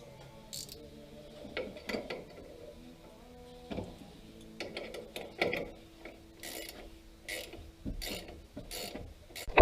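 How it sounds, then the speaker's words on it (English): A 17mm ratchet clicks in short bursts while loosening a shock absorber bolt on a Toyota 4Runner, the pawl's rapid metallic clicking repeating close by with brief pauses and no talk. "Now 17mm ratcheter."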